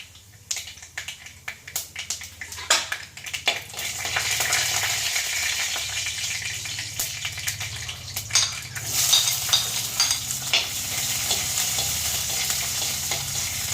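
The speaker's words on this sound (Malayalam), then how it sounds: "ചുവന്നുള്ളി ഇട്ട് കൊടുത്തു ഏകദേശം വഴന്ന് വരുമ്പോൾ" Shallots sautéing in hot oil with fenugreek seeds and garlic in a home kitchen pan, a steady loud sizzle with scraping stirs and utensil clinks against the pan throughout, no talk.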